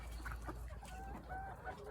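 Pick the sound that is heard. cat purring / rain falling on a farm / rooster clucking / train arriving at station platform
rooster clucking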